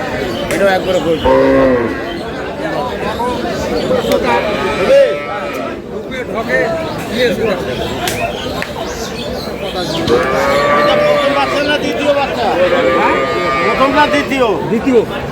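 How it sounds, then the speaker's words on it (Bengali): A dairy cow with her calf at the Aftabganj cattle market in Dinajpur moos several times, long wavering lows rising over busy crowd chatter and people talking nearby. "সুন্দর গাভী বাছুর।"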